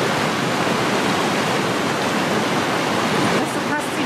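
Steady rushing water in the Black Forest, a dense continuous roar of a stream or small falls filling the foreground, loud and unbroken with faint other sounds near the end.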